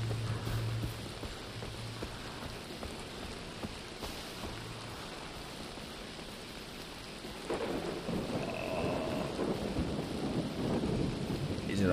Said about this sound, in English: And the rain is really fucking loud